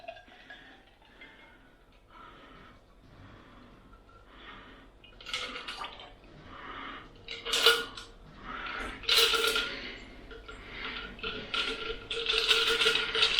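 A Manhattan cocktail with a cocktail cherry is stirred in a glass, giving soft liquid swirls, then louder clinks and scrapes of the spoon against the glass that build toward the end.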